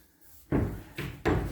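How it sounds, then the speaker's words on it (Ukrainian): A push-to-open wooden wardrobe door in a modern house is pressed and swings open, giving a soft click followed by two or three close wooden knocks and thumps. "Ми нажали і дверка відкрилася."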